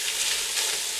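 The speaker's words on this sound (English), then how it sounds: "it immediately starts frying up" Bacon frying in a thick-bottomed 360 Cookware pot for jambalaya, giving a steady close hiss and crackle of sizzling fat with no talk over it.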